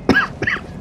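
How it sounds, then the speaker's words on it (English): Two short coughs in quick succession, close to the microphone, with nothing else around them. "Pardon me, I'm about to cough."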